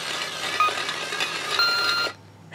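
A small electronic gift gadget gives a steady high beep after its button is held, continuous for about two seconds before cutting off, close and fairly loud.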